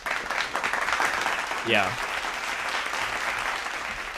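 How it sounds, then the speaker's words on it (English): Applause sound effect triggered from a soundboard button, a dense burst of crowd clapping filling the few seconds, with a voice briefly speaking over it. "I just downloaded the applause today, which is why I'm using it so much."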